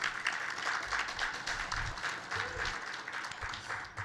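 An audience at a sustainability conference applauds a keynote speaker, a deputy minister, with steady, fairly close clapping running the whole time and voices mixed in beneath it.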